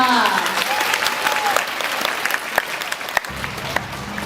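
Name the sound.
audience applause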